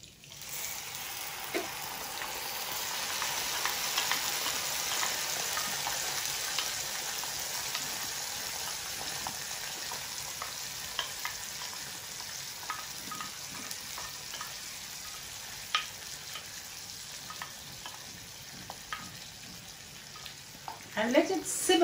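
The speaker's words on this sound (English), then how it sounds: "Now, add the paste to this oil." Ginger and green chili paste frying in hot oil for a brinjal coriander curry, giving a steady, moderately close sizzle that holds evenly throughout with a few faint clinks of a utensil stirring near the end.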